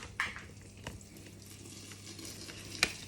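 Food cooking in a pan, a faint, steady sizzle with a few soft utensil clicks near the start and end.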